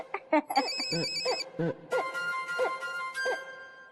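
A telephone rings with a repeated electronic ringtone, a bright melodic pattern cycling several times, fairly close, in a domestic scene from a Marathi TV serial.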